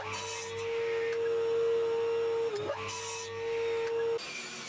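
A table saw ripping pine into strips about 20mm square: a steady motor whine with a loud cutting rasp through the wood, a short dip midway as the feed changes, then the cut resumes before the blade sound falls away.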